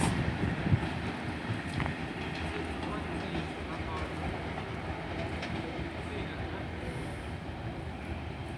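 Diesel unit 153373 pulls away from Exeter St Davids toward Paignton, a steady rumbling engine and rolling wheel noise holding at a constant level throughout.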